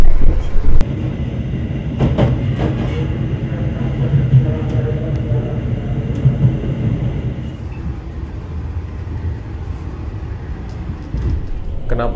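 Inside the Argo Lawu express from Jakarta to Jogja, a steady low rumble and rattle of the carriage at speed fills the scene, with a few knocks and some background voices.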